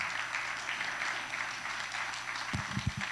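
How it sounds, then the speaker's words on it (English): Applause from a congregation at a Sunday church service, a moderate wash of clapping that holds steady throughout, with a few low thumps near the end. "Let's give him a round of applause."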